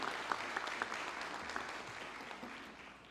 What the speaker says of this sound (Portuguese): Peço uma salva de palmas para a nossa banda.